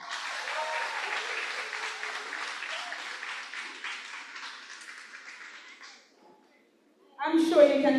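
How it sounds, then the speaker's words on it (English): Applause from the audience at a Ministry of Education teacher engagement session, a sustained crowd of clapping for about six seconds that fades into a brief silence before a fresh burst of clapping starts. "I'm sure you can give them a better round of applause than that"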